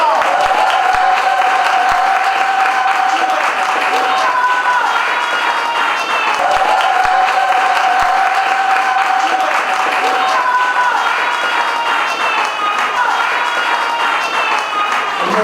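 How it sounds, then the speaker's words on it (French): Wedding guests clapping together at an official wedding celebration, a steady crowd applause throughout, with a sustained melodic tone and voices audible beneath it. "Applaudissez la lance."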